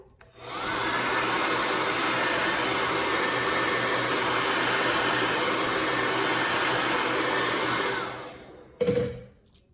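A heat gun blasts steadily on a beeswax sheet for candle rolling, a loud, close, continuous whooshing roar that runs about eight seconds before cutting off, followed by a brief clatter.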